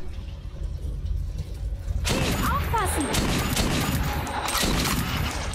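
Bursts of rapid gunfire break out suddenly and continue densely in Metro 2033, with sharp cracks and booms in game-like combat noise, a voice briefly audible.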